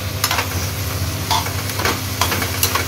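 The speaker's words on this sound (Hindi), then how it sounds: "ये देखो प्याज फ्राई हो चुके हैं और अब इनमें मैं डाल देती हूँ टमाटर और हरी मिर्ची" Onions frying in a pan for a simple onion-tomato sabzi, with tomatoes and green chillies just added; a steady close sizzle runs throughout, broken by a few short stirring scrapes, with no talking.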